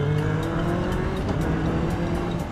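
A Yamaha R6 sport motorcycle engine runs at high throttle, giving a loud, steady, close droning whine that holds for the whole stretch with no talk.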